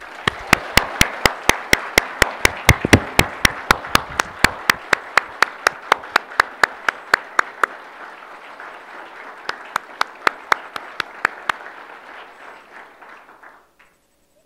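A crowd claps warmly for an outgoing premier at a formal handover ceremony. The applause is dense and sustained, with sharp individual claps standing out, and it thins and fades out near the end.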